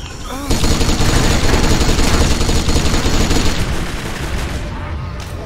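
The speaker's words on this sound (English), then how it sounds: "Machine gun versus machine gun." Sustained automatic gunfire erupts in the Kane & Lynch video game, a loud, dense rattle of machine guns firing at close range that runs for several seconds before easing off.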